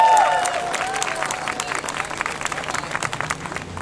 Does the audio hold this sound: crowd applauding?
yes